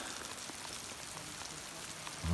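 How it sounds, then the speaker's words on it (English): Rain falls steadily in Montana, a soft, even patter of drops on surfaces heard at low level, with a brief louder thump at the very end. "Playing in the rain."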